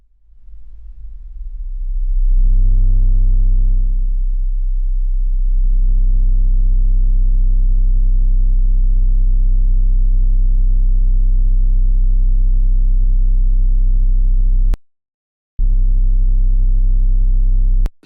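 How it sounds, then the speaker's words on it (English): Turntable stylus picking up vibration from a nearby speaker, building into a loud, steady low droning feedback tone that swells after a soft start, holds for many seconds, cuts out briefly, then returns. "the stylus will pick up the vibration caused by the speaker, resulting in a feedback loop that gets louder and louder"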